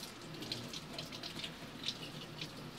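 Raw shrimp, split along the back to wash out the gut, are rinsed under a running kitchen tap, giving a soft, steady stream of water splashing for a few seconds with no talking.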